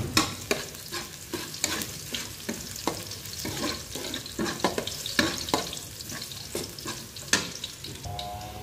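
Chopped garlic sizzles in oil in a pan while a spatula scrapes and stirs it, producing a steady frying hiss broken by rhythmic scraping strokes up close.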